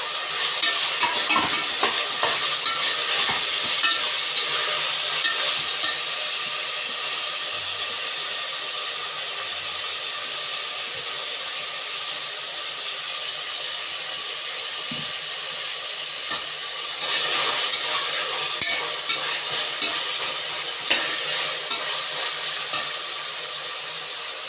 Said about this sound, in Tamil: இப்போது கொத்தமல்லி, கருவேப்பிலையை போட்டு வதக்கிக்கலாம்.